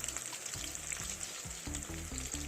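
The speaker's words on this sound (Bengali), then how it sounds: "দেখুন চিকেনগুলো আমার ভাজা হয়ে গেছে।" Chicken pieces frying in oil for chilli chicken, a close, steady sizzle with bursts of bubbling and soft stirring throughout.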